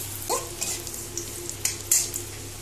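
Ginger, garlic and chopped chili dropped into hot oil, a steady frying hiss with a few sharp clinks and scrapes of a utensil against the pan, close up and with no talking.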